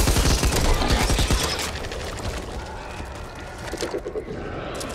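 Dense automatic gunfire fills the opening of a Back 4 Blood co-op match, sounding loud and close, then gives way to a noisy, rumbling game soundscape.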